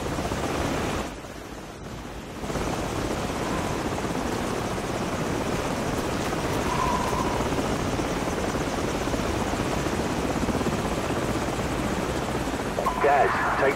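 Helicopters in the Modern Warfare video game roar in a steady, dense rotor-and-engine drone. The noise dips briefly near the start, then holds loud to the end, with voices mixed in.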